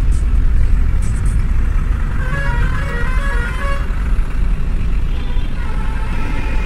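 Vehicle horns toot in heavy traffic at a toll plaza, several short honks rising over a loud, rumbling engine drone of cars, buses and trucks.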